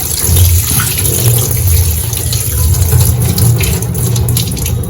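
Pasta being rinsed under running tap water: a loud, steady rushing stream into a sink, continuous and close, with no voices.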